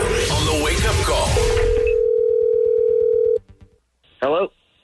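Telephone dial tone held steadily while a call is placed, first under loud voices and noise, then alone, followed by brief dialing beeps and a short ringback tone.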